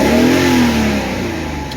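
A 1993 Mercedes 500E barn-find V8 revs hard up close to clear moisture from its exhaust, a loud sustained roar that eases off slightly toward the end.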